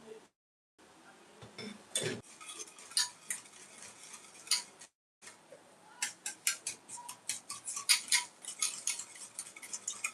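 Hand mixing of two eggs into an orange cake batter in a bowl: a utensil clinks and taps against the dish in quick, uneven strokes, close and fairly clear, becoming a steadier rapid rhythm toward the end, with no talking.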